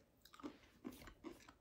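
Close, quiet chewing of a toffee-coated peanut keto snack, with three or four soft crunching bites at a steady pace, followed by a sudden louder bump at the end.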